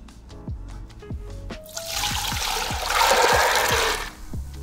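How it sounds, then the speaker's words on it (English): Soaked black beans and their soaking water are poured into a pan for a Brazilian feijoada, a splashing, gurgling pour swelling over a couple of seconds against steady rhythmic ticking. "Put your beans in a pan with the soaking water."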